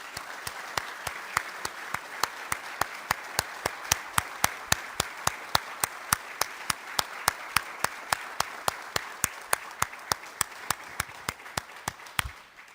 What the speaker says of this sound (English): So if you join me in a round of applause.